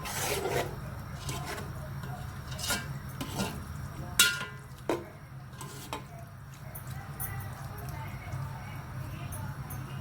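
Chickpeas are mixed into masala in a pot, with a rhythmic spoon scraping and rasping against the metal and a few sharper knocks over a low background rumble, while a person talks at moments.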